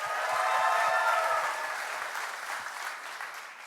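Audience applause at a philanthropy board event, a steady wash of many hands clapping that starts full and slowly thins and fades over a few seconds, with no voices over it.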